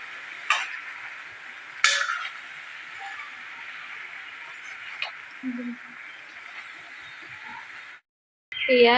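Chopped black taro stems and leaves are stirred in a cooking pot. A utensil gives a few scattered scrapes and clinks against the pot over a low, steady sizzle, and there is brief faint noise near the end.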